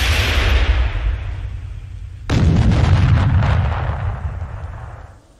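Automatically loaded cannon on an armored vehicle firing twice, each a heavy booming blast with a long rumbling decay, loud and near.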